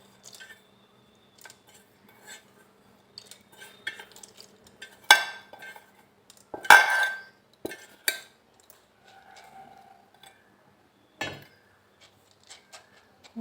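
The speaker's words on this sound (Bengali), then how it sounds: "এবার এর মধ্যে ডাল নিয়ে নেব।" Red lentils go into a wok for hand-mixed musur dal: sparse metallic clinks and a couple of short rustling bursts in a mostly quiet kitchen, with no talking.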